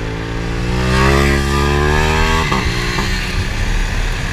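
A Husqvarna Vitpilen 701 motorcycle on the Haras Tuiuti race track revs loudly up through a rising engine tone, then shifts and drops around the midpoint before pulling on again, close and dominant with no talk.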